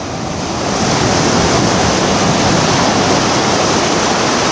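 Ocean waves wash steadily onto a beach at dusk, a loud continuous roar of surf with no break and no voices.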